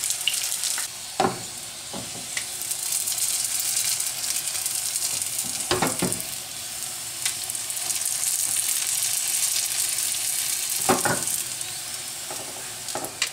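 Chicken and shiitake pot stickers fry in hot oil in a pan, giving a steady, close sizzle throughout, broken by a few sharp clatters as the dumplings are tossed. No one speaks.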